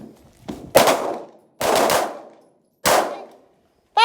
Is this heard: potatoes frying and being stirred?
no